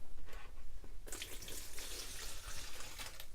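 Oil-base paint cleaning liquid poured back into a tub while cleaning a Sprayit SP33000 paint spray gun, a continuous close splashing trickle that grows fuller and brighter partway through.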